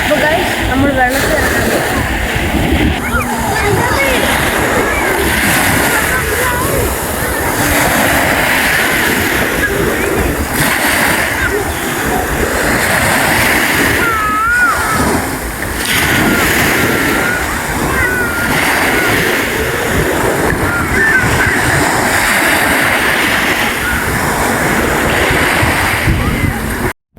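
Ocean waves wash continuously onto a beach, a loud, rough surf roar with wind buffeting, while people talk throughout.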